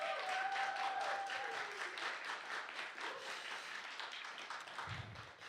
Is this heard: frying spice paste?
no